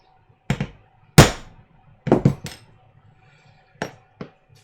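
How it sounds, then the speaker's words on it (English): A hammer taps a centre punch on metal several times in a home workshop, sharp metallic clinks spaced irregularly, close and clear with no talking. "take a centre punch, put it on our mark, and give it a tap"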